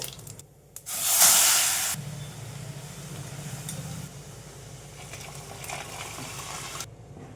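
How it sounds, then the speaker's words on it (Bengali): Dried red chillies and mustard seeds hit hot oil for a lentil dal tempering, opening with a loud burst of hissing splutter that settles into a quieter, steady sizzle with faint crackles. "শুকনো লঙ্কা সর্ষে ফুটে উঠলে তবে বোঝা যায় ফোড়নটা হয়েছে।"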